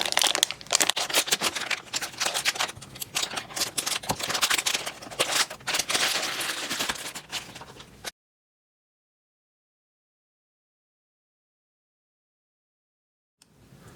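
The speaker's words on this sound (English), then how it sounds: "so we are going to go ahead and use our scissors" Scissors cutting through a crinkly plastic mystery pack of Shopkins Real Littles Freezer series toys, dense rustling and snipping close up for about eight seconds, then silence.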